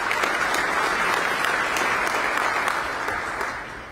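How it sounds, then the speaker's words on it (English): Loud, sustained clapping from a crowd at a State of the County address in Bexar County, a thick even wash of hands that tapers off a little in the final second. "Let's give them a round of applause."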